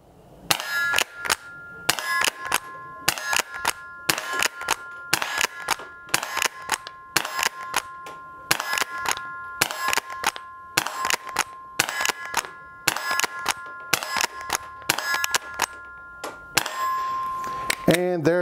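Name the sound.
Winchester Model 1906 rifle shooting quiet 22 short rounds at steel targets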